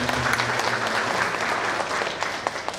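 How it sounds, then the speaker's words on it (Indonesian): A seminar audience claps steadily, a dense burst of applause lasting the whole moment. "Kita beri tepuk tangan"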